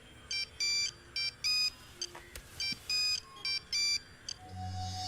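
A phone rings with a repeating electronic ringtone, short bright bursts in a regular pattern over quiet background, ending as a low hum begins.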